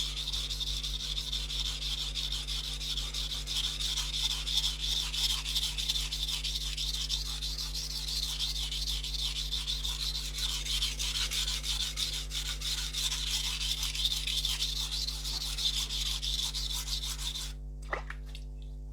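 A steel knife blade is ground on coarse sharpening stones, giving a steady, continuous abrasive rasp that holds level for nearly the whole stretch under a constant low hum. It stops abruptly near the end.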